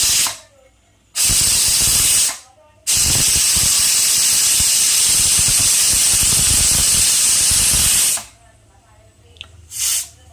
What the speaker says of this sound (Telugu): ఇప్పుడే కుక్కర్ వండడం అయిపోయింది. ఇప్పుడే ఎయిర్ బయట చేస్తున్నాం.